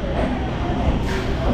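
Brief, close rumble and rattle of a local train pulling out of Sealdah station toward Katwa, a dense low roar with a slight lift in brightness partway through.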